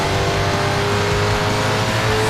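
An Audi race car's engine roars steadily in Need for Speed Shift, racing at Silverstone, with a loud continuous drone and a wavering low rumble as it holds revs throughout, no voices.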